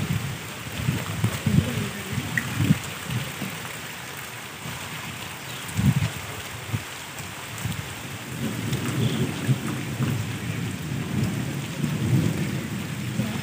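Steady rain falls on surfaces during a storm, a continuous hiss with rolling thunder rumbles breaking in at intervals; no one speaks.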